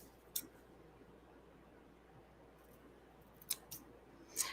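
Scissors snipping the ribbon tails on a handmade stamped penguin card, a few quick, faint cuts spaced over a quiet room with low background hum.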